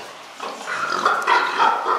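Pigs on a farm, including a Duroc sow, grunt in a steady run of low, rough calls, close and moderately loud, with no talk over them.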